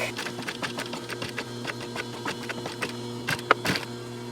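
Close sewing machine stitching back and forth on denim jeans during a zipper-fly alteration, with a steady motor hum under repeated rhythmic needle ticks and brief bursts as direction changes.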